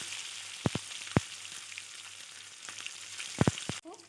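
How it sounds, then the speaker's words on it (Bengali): Shingi catfish frying in hot oil: a steady close crackling sizzle with several sharp pops and spatters, and a brief clatter near the end. "সবগুলো মাছ আমি একবারে দিচ্ছি না হাফ হাফ করে দিয়ে আমি মাছগুলো ভেজে নেব"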